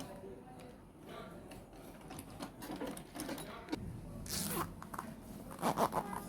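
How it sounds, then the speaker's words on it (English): A zipper on a handmade fabric coin pouch is zipped closed, giving short ratcheting zips near the end, with soft handling rustles and some quiet background noise before them. "So we zip it back."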